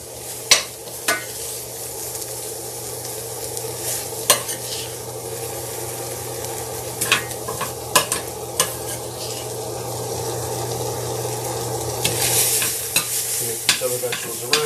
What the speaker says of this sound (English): Mix these other vegetables around. Again, I want to make sure I'm not burning the bacon there.